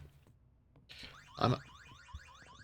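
Alarm in a zombie video game, a warbling electronic car-alarm style siren rising and falling in repeated sweeps, starting after a couple of sharp knocks and continuing steadily.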